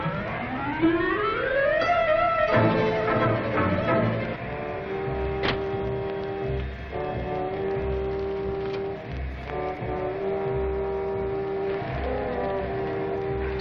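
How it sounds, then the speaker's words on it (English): A car engine revs and whines upward, then settles into a steady running drone with shifting tones, continuous and fairly loud with no talk over it, from a 1940 film serial. "I never saw a car move so fast."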